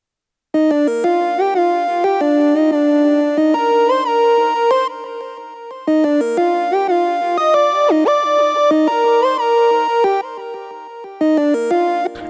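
Happy hardcore remix part built from three layered triangle-wave synth voices, bright chiptune-like melodic phrases playing loud and clean in steady repeating bars with short gaps, no talk.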